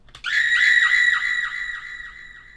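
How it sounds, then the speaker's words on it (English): A single sustained scream sound effect of the kind used in G59-style hip-hop beats, loud and close, starting sharply and wavering with a warbling pitch as it slowly fades, heard alone without talking. "It's just a scream sound effect."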